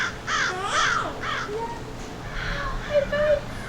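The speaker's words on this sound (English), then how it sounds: "Whoa, look at the birds, Cosmo." Crows cawing outdoors, a handful of harsh, rasping calls in quick succession at moderate distance, fading to softer calls afterward.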